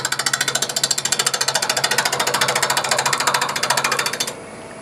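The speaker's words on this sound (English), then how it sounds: "I'm just rubbing that part of the bevel." A woodturning tool rubs its bevel against a four-sided jar spinning on a lathe, giving a rapid, even chattering that pulses loud and close for several seconds before stopping abruptly near the end.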